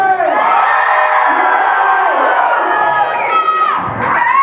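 A wedding reception crowd cheers and shouts loudly all at once, a sustained burst of whoops and yells with a few voices rising high near the end.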